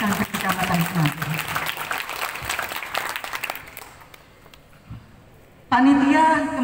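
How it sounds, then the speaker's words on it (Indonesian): An audience applauds students at a district gathering, with clapping under and after a speaker's voice, fading for a moment before a louder burst of amplified sound near the end. "Tepuk tangan untuk santri-santri Kecamatan Semampir."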